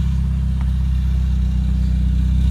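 A 2000 Chevy Cavalier idles steadily at the tailpipe, a loud, close, even exhaust drone with a low rumbling pulse and no voices.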